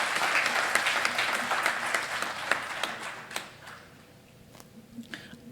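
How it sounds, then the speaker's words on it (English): A conference audience applauds loudly in a dense burst of clapping that gradually thins out and fades, leaving a few scattered claps near the end. "please give a huge round of applause for Bagga, sir"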